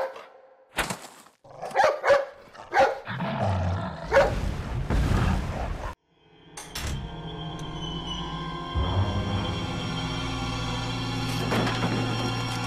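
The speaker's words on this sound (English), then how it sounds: "Hey, it's that dog." A dog in the 2005 video game Resident Evil 4 barks and growls in a series of sharp, close outbursts during a cutscene, followed by sustained tonal game music and rumbling effects.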